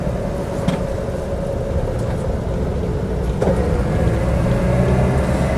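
Land Rover Series III 88-inch seven-seat station wagon trundling along a road, its engine a steady low rumble with constant road and cabin noise throughout, no voices.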